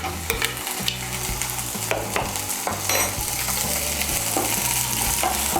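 Chopped onion and a medium chopped tomato fry in a pan while being stirred, a loud close sizzle overlaid with regular scraping spatula strokes throughout, with no one speaking.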